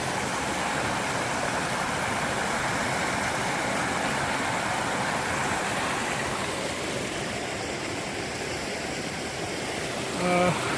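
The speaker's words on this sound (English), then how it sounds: "It's a nice waterfall." A waterfall at Dauset Trails in Jackson, Georgia pours in a constant, loud rushing roar of water that stays even and unbroken throughout, with no talk over it.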